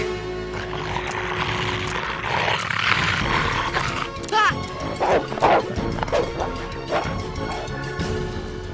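A cartoon dog barks and yips wildly amid crashing, scuffling commotion, with growls and whimpers in a loud, chaotic tussle.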